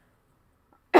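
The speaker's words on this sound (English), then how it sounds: "I just have to cough, I'm so sorry." A single sharp cough bursts out near the end after near silence, close and fairly loud.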